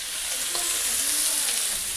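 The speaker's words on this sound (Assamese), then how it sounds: "এতিয়া এয়া মই ভাজিছোঁ ঢেকীয়া" Dhekia fiddlehead fern fries in a pan with a steady, close hiss and crackle, the sizzle holding even and unbroken throughout, with no voices over it.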